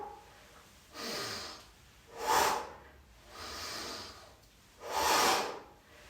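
Slow, audible breaths are drawn in and pushed out through the nose during a beginner yoga core-strengthening exercise, four long hissing breaths in a steady rhythm, close and clear.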